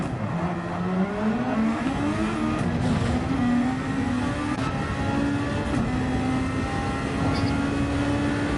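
GT1 race cars in a sim racing game on a dry Suzuka track, engines droning loud and steady with rising and shifting pitch as cars pass close, and a commentator talking over the noise.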